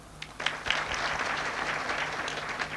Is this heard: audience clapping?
yes